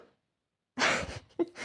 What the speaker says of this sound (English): That was Oakley doing a big yawn.